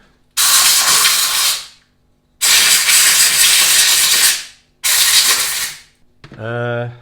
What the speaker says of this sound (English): this I'm going to go and blast with some clean air